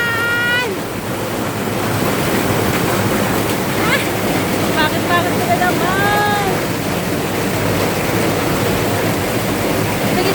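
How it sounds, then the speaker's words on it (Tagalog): Heavy rain pours steadily during the rainy season, a loud continuous wash of noise, while a person speaks briefly and faint bird calls cut through. "Nalakas na naman ang ulan!"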